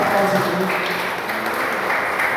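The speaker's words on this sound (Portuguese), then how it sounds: "As palmas vão ao Senhor." Congregation applauding during a church doctrine service, a dense wash of clapping from many people, steady and fairly loud, with faint voices mixed underneath.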